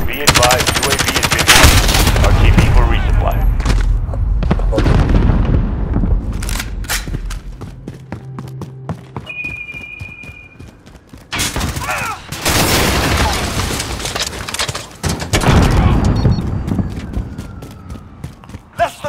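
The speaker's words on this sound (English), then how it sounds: "Got a sentry gun on station." Automatic sentry gun in Call of Duty: Modern Warfare firing loud, sustained bursts of machine-gun fire, with further gunshots and battle noise in the mix and brief game chatter between volleys.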